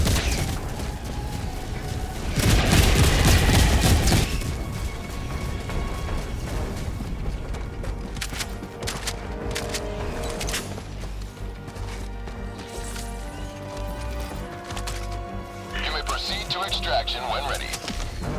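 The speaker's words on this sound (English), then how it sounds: "Firing orbital barrage" Orbital barrage strike in Helldivers 2 pounds the area with a loud burst of explosions early on, followed by a continuing rumble of impacts and debris under game music and voice callouts.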